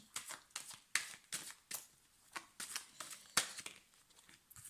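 Tarot cards being shuffled and laid out, a quick series of crisp papery slaps and riffles in irregular bursts, close and fairly quiet, with no talking.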